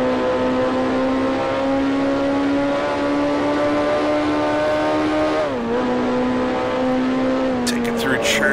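A 1968 Formula 2 race car engine in Grand Prix Legends at Thruxton roars loudly and steadily at high revs, dipping briefly at a gear shift before holding again, with a few clicks near the end.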